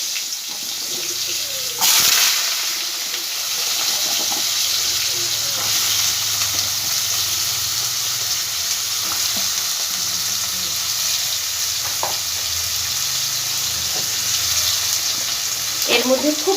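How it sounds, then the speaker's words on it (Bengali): Cut potatoes frying in hot oil for a Bengali mochar ghonto, a steady close sizzle that stays even throughout, with a few brief stirring clatters and no talk over it. "আলুটাকে আমি একটু ভালো করে ভেজে নেবো আগে"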